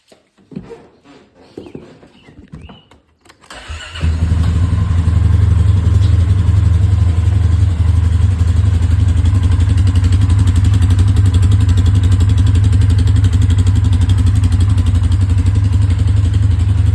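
Polaris Sportsman ATV with a ProStar engine starting. A few quiet handling noises come first, then the engine fires at about four seconds and settles into a loud, steady, close idle that lasts to the end.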